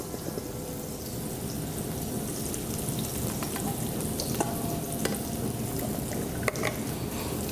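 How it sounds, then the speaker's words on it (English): Cooked vegetables, including celery, being strained, with liquid pouring and splashing out in a steady, close hiss that stays even for several seconds. "I'm going to strain our vegetables."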